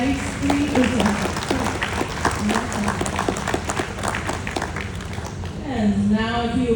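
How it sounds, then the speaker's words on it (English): An audience at a live glassblowing demonstration at the Corning Museum of Glass breaks into scattered clapping while the presenter keeps talking over it. "How about a big round of applause for a nice, clean"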